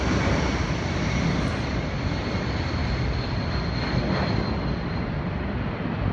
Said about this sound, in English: there was an air show in Australia where planes flew really close to buildings